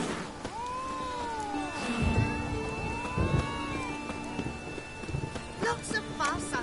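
Horse hooves clip-clop steadily over a busy Witcher 3 game soundscape with music and a voice murmuring, the trotting rhythm fairly close and moderately loud.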